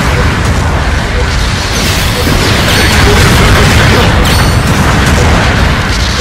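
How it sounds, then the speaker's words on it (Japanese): Artillery bombardment in Gundam Battle Operation 2, a dense, continuous roar of overlapping explosions and booms, loud and close throughout with no clear gaps. "後方部隊からの砲撃が始まった"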